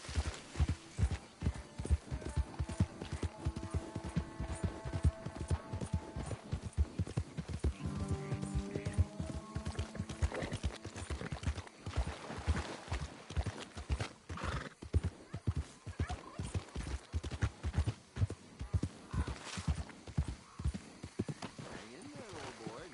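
In Red Dead Redemption 2, a horse gallops with a fast, steady drum of hoofbeats, neighs in a few whinnies along the way, and a voice speaks now and then over the hooves.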